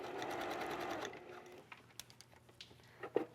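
A sewing machine stitching a princess seam on a little black dress whirs steadily and close for about a second, then stops, followed by a few light ticks and taps.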